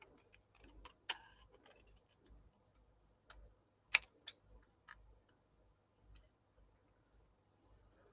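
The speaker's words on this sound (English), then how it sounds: "I'm just going to use my scissors to carefully trim this out." Quiet, irregular snips and small crisp clicks of scissors cutting paper, close by, with soft pauses between cuts.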